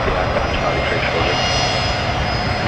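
A Qantas Boeing 737 rolls full length from Alpha 1 for takeoff on runway 19 left at Brisbane Airport at night, giving a loud, continuous engine roar with people talking over it.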